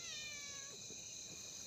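A cat gives one drawn-out, close meow that falls in pitch and then breaks off, heard in a quiet room at night.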